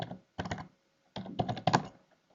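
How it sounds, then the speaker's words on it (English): Typing on a computer keyboard while laying out a brochure in publishing software: two short bursts of quick, close key clicks separated by a pause, with no voices. "if I start typing"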